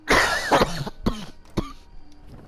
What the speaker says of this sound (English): Goddamn cough.